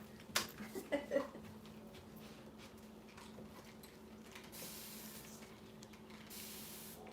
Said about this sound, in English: spray it with the water